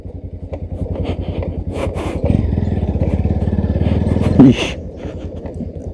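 A motorcycle engine rumbles steadily nearby, with clattering knocks as it bumps over an uneven off-road hill track.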